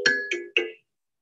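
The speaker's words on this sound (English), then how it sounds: "One is a kalimba, sounds like this." Three plucked metallic kalimba notes ring out in quick succession, bright and bell-like, then fade into silence.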